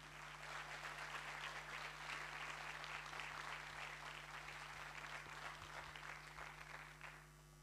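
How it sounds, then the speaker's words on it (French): At a Namur provincial evening honouring citizen projects, an audience gives continuous, even applause, distant and faint, over a steady low electrical hum, tapering off at the end. "Encore mille applaudissements et bravo à vous."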